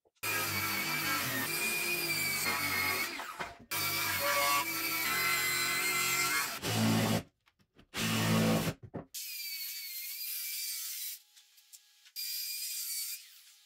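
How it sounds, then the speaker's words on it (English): Circular saw and jigsaw cutting a wooden deck stair stringer, loud sustained cutting bursts separated by short pauses, with a thinner higher whine in the later passes. "we're going to use our circular saw and our jigsaw in the corners"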